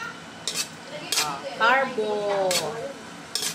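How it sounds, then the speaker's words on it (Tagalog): Carbonara with ham is being cooked, with metal utensils clinking and knocking against pots in several sharp, close strikes while a person talks over the kitchen sounds. "nagluluto ang Kamarya ngayon ng carbonara"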